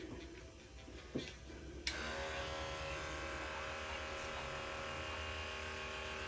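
Electric hair clippers cutting a boy's hair at home switch on after a couple of soft handling knocks, then buzz steadily and closely with no talk.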